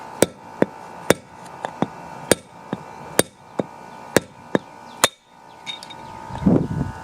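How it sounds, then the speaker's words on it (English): Sharp metallic hammer blows strike a driver to knock out a front wheel bushing on a John Deere, about a dozen evenly spaced impacts ringing out close up, then a pause and some rustling handling noise. "I'm going to be hammering away at this"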